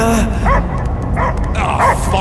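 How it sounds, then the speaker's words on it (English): Dogs in the Guardians of the Galaxy video game, loud close barks and yips in several bursts with whimpering tones between them. "I hear only barking."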